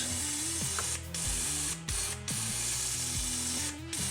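A 23-year-old fuel injector from a BMW K1200RS motorcycle spraying during a cleaning test, sounding as a rapid mechanical ticking and buzzing in short repeated bursts with brief gaps, close and fairly quiet.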